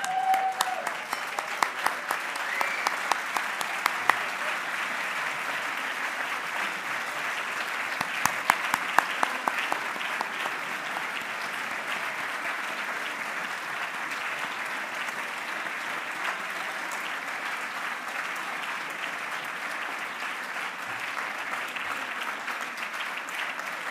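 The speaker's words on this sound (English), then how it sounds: "upstanding applause for Louise." Dinner guests giving a standing ovation for Louise, with sustained, even applause from a large room that carries on for the full stretch, a few louder claps standing out early on.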